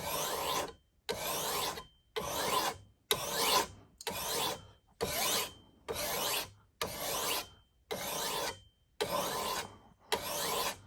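A file sharpening a new machete, rasping in steady, evenly spaced strokes, about a dozen long scrapes separated by short pauses, close and alone.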